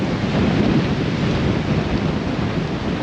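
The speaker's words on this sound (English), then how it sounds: "Whoa, it is very windy." Strong outdoor wind roars steadily against the microphone, a dense broadband buffeting rumble with gusty low-end surges that never lets up, close and loud with no voices.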